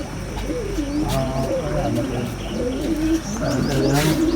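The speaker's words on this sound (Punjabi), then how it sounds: "ਲੋ ਜੀ ਜਾ ਕਬੂਤਰ ਡਾਉਣੇ ਤਿੰਨੇ ਆਪਾਂ ਨੇ" Domestic pigeons coo in low, rounded calls throughout, layered with a few brighter chirps and a steady background hum.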